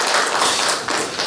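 A church congregation claps together to welcome guests during a Sunday service, a brief, steady wash of many hands applauding at once.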